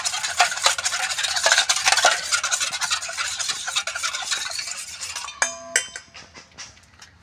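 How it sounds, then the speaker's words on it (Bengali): An egg is whisked briskly in a bowl for a crisp egg-and-flour khasta snack, giving quick, rhythmic clicking and scraping that runs steadily, then slows into a few separate taps near the end. "ডিমটাকে আমি ভালোভাবে একটু ফেটে নেব।"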